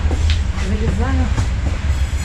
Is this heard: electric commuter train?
yes